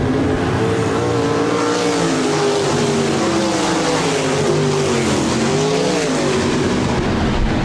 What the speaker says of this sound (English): 12 laps scored complete as the green flag waves and we go racing once again.